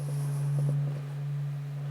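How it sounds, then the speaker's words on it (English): NASA's 2018 recording of sounds of the Sun, a faint steady low hum with a sustained tone and soft pulsing texture, quiet and continuous throughout. "is a 2018 NASA recording titled Sounds of the Sun"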